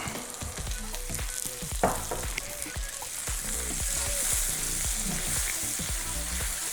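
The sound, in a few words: chicken gizzards stir-frying with sesame seed oil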